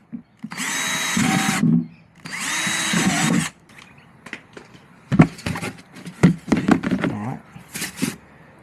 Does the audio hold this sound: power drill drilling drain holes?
yes